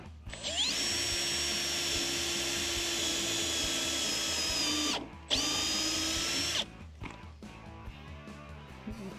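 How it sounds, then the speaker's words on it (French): A power drill bores into a wooden timber-frame wall with a loud, high whine, pausing briefly once and restarting before stopping, followed by faint handling noises. "Allez, perce."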